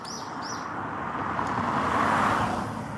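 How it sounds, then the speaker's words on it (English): Cars driving through a lit mountain tunnel in Japan, a broad steady roar of traffic swelling slightly as a vehicle passes, with a couple of bird chirps early on. "That tunnel is lit and only cars go through here."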